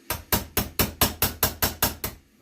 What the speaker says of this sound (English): Then with the back of the hammer,